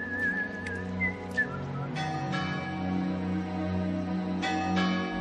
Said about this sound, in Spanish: hasta silbo un viejo tema gallego